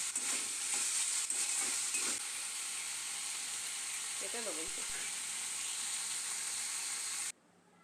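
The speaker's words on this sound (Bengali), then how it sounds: "এবার কিছুটা সময় নিয়ে সবগুলো একসাথে রান্না করে নেব" Red amaranth greens cooking with shrimp in a pan hiss and sizzle steadily, with a few scraping stirs near the start and the frying sound cutting off abruptly at the end.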